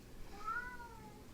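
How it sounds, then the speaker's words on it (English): A single cat meows once, a faint drawn-out rising and falling call heard at a distance through a quiet room. "Oh, Luffy's such a butthead cat."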